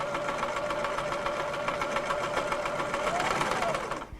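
A sewing machine stitches a quilt strip set in one steady, close, continuous whir that stops abruptly at the end, with no talk.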